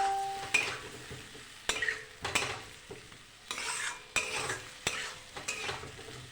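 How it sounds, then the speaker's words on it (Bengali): An egg curry masala with turmeric is sautéed in a pan with repeated rhythmic scrapes of a spatula, roughly eight strokes, over a soft sizzle. Metal clinks against the pan edge here and there. "হলুদটা দিয়ে দিচ্ছি। এবার কষিয়ে নেব।"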